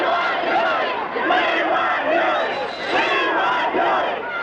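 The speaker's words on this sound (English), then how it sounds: "Shouting, "We want Huey now,"" A large crowd chants and shouts in unison outside the Huey Newton trial, loud, massed voices rising and falling in repeated rhythmic waves.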